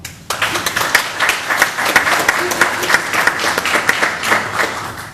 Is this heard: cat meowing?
no